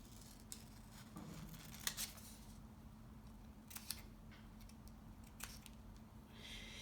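Scissors snipping paper for a turkey placemat, a few scattered quiet crisp cuts close by over a low steady background hum, with no talking.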